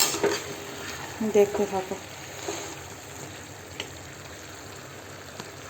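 Chicken being stir-fried in a pan for a spicy red kosha curry, a soft continuous sizzle with occasional stirring scrapes and clinks, and a voice speaking briefly over the cooking.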